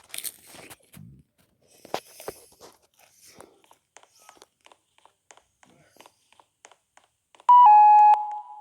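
An installed aboard security system gives a loud steady electronic beep tone near the end during a test, after quiet rustling and crunching of caramel popcorn being eaten nearby.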